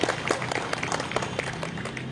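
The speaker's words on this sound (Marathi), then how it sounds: "एकदा जोरदार टाळ्या" An audience at a reading of Savitribai Phule's poems bursts into brisk, dense applause, many hands clapping steadily and close for about two seconds, with a few faint voices underneath.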